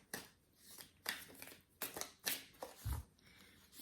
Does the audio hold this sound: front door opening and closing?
no